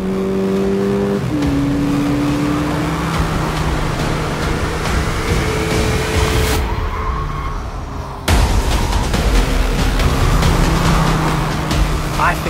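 A car accelerates hard with its wheels spinning on a damp race track, the engine note rising and sustained and fairly close, with a brief cut partway through and people talking over it.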